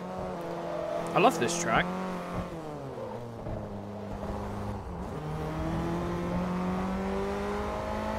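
Toyota Celica race car in Forza Motorsport 3 on a street circuit, its engine droning steadily with a few rising and falling revs, under someone talking.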